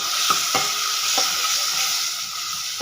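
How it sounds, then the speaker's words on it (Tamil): Tomatoes cooking down in a pan with salt and turmeric, a steady soft sizzle broken by a few sharp spoon-scrape stirring taps near the start, close and moderate. "தக்காளி வந்து வதங்கட்டுங்க."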